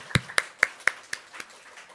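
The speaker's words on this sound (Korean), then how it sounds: "너무 수고하셨다는 우리 감사의 박수 드릴까요?" A church congregation claps in thanks during a Sunday service, a handful of distinct, evenly spaced claps that fade out quickly.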